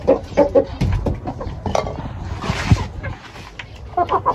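Chickens cluck and chatter nearby in short, irregular bursts, mixed with faint background rustling and the occasional distant voice.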